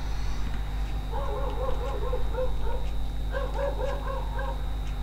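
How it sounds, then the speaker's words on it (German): A dog barks and yips in repeated short bursts over a steady indoor hum, fairly faint and somewhat distant, in two clusters with a pause between them. "Da stimmt sogar der Hund zu."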